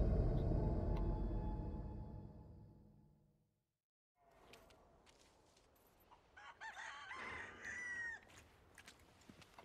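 A rooster crows loudly and close in Resident Evil 4 Remake, followed after a short silence by softer game ambience with scattered clucks and bird calls.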